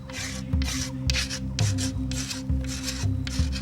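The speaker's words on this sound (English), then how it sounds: "The entire bow should be scraped to remove all marks left by the rasp." A blade scrapes a wooden primitive bow to smooth away rasp marks. Close, repeated rasping strokes come in a steady rhythm of about two per second, with no talk.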